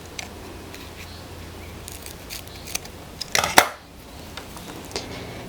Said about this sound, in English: Now I'm going to cut another piece off of the nylon string.